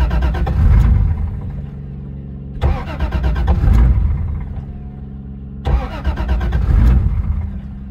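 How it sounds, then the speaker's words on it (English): A Toyota JZX car engine cranks and catches on a cold morning, then settles into a low, clattery diesel-like idle. A second start or blip follows midway, each burst loud and close against the rumbling idle. "this car sounds like a diesel when I start it"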